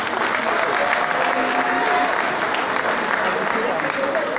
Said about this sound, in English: Please give a big hand to this mama.